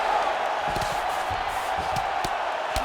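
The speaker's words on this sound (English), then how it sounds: "the crowd continues to react with every pass and land" Arena crowd at a UFC 5 video game women's fight, a steady roar of cheering with faint commentator voices beneath, a few sharp impacts scattered through.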